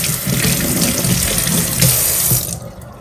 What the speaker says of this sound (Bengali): শিল্পাটাও ওয়াশ করে রেখে দিচ্ছি